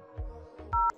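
Telephone keypad tones dialing a VoIP call to a 3CX extension over a FreePBX server: three short, clear DTMF beeps spaced apart, the last a loud two-tone beep, with no talk.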